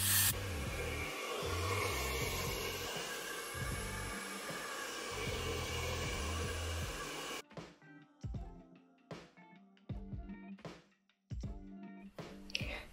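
Aerosol hairspray hisses steadily onto the hairline of a ginger wig for about seven seconds, fairly close and continuous, then stops, leaving quieter handling rustles and small taps.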